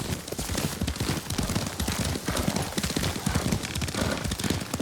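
Horse hooves clip-clop in a fast, continuous galloping rhythm during a ride in the samurai video game Ghost of Tsushima, loud and close, with no speech over them.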